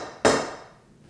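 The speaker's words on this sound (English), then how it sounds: "We then use a center punch to create a little divot right where that spot is" A single sharp metallic strike of a center punch making a divot for a drill hole in clock material, close and loud, ringing out briefly and fading.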